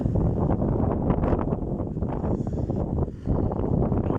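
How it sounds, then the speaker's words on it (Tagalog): Strong wind batters a phone microphone in a constant low roar that dips briefly once and then surges back, outdoors at a fish pond. "lumalakas na yung hangin"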